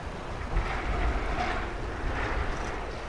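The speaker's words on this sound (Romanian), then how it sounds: "Bate și vântul ca să fie treaba completă." Wind blows outdoors on a rainy day, buffeting the microphone as a continuous rushing roar with a few stronger gusts; no one speaks.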